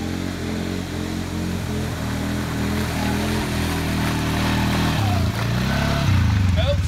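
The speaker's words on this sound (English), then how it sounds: "That there belt slippage is the exact reason you want a Honda and not a Polaris." A Polaris ATV engine revs hard and steadily while stuck in mud, its slipping drive belt giving a droning, wavering whine that rises in pitch toward the end, loud and continuous throughout.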